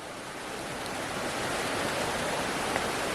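The Alfred River runs swollen after rain through a gorge below, a steady, full-band rushing roar that holds at an even, fairly distant level throughout with no voices.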